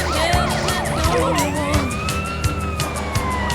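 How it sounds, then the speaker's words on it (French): Wailing and yelping ambulance siren in the GTA San Andreas video game, loud and sweeping up and down in rapid cycles before settling into slow long wails, with dull impacts and traffic noise in the background. "Ah, c'est elle l'ambulance."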